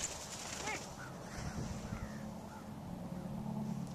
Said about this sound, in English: Looks like a crow.